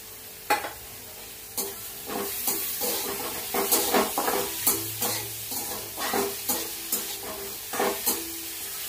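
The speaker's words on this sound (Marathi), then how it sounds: "तेलामध्ये तर टोमॅटो पण छान परततायत" Tomatoes with onion and curry leaves fry in hot oil in a pan while a spoon stirs them, giving soft sizzling under repeated scraping strokes at a steady, unhurried pace, close by.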